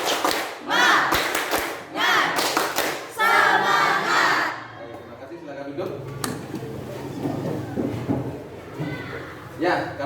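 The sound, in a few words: group spirit clap chant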